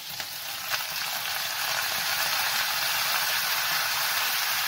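Curry leaves and sliced green chillies hit hot oil already tempered with mustard seeds and asafoetida, setting off a bright, steady sizzle that swells slightly and holds loud and close, with a few sharp pops early on.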